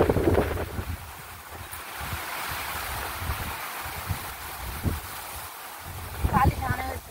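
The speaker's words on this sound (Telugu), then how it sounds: "చాలా గాలి వస్తుంది" Strong wind gusting outdoors during rain, a broad rushing roar buffeting the microphone, with family members talking over it at the start and end.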